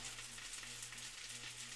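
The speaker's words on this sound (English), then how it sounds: "those meatballs are just frying up a little bit more while we get this in here" Meatballs fry in a pan with a soft, steady sizzle and crackle, faint and continuous, with a low hum underneath and no talking.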